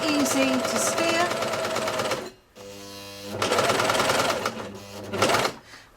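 A Celine cover stitch sewing machine runs a cover hem, a loud, fast, steady needle rattle that pauses briefly, then starts again, with a voice talking over it.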